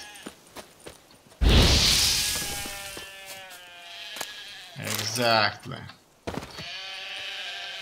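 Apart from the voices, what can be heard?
sheep bleating in the video game The Witcher 3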